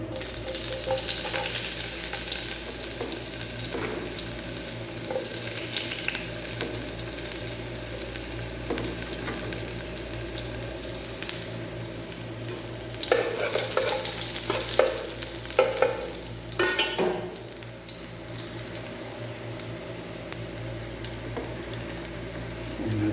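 Garlic fries in a pan for a Filipino vegetable sauté, a steady close sizzle running throughout, with stirring scrapes and a burst of louder crackling midway.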